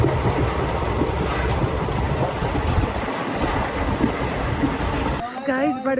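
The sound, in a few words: train at Budgam railway station, Kashmir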